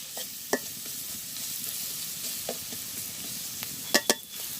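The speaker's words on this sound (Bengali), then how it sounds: "পেঁয়াজ একটু হলুদ দিয়ে দিচ্ছি।" Onions fry with turmeric in a village kitchen pan: a steady, close sizzling hiss with a few sharp clicks from stirring, and no voices.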